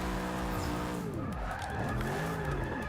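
A heavy, powerful Chevrolet Z28 drifting in the Forza 6 racing game, its engine roaring with shifting pitch under sustained tire squeal and skidding, loud and close throughout.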